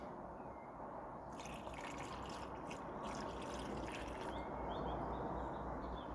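Coolant poured into the drained cooling system of a Mini Cooper R50 Park Lane, a steady liquid trickle and gurgle with brief splashy bursts midway, close and fairly quiet, no talking.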